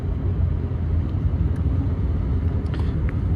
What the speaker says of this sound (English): American Geo Metro